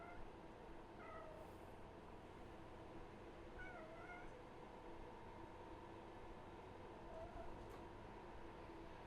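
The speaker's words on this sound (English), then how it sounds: "Don't know if you could hear my roommate's cat just cooing in the background." Soft, brief cat meows and coos come up a few times over a steady background hiss and hum, fairly faint and distant.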